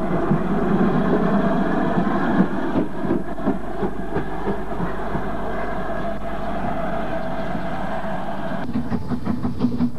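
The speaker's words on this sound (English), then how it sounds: "And one of the heavy 282 tank engines of the 72 class." A heavy British 2-8-2 tank steam engine of the 72 class rumbles past in a continuous loud roll, with faint rhythmic clatter from the wheels throughout.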